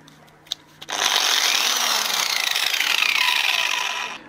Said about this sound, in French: Donc je vais également utiliser la meuleuse.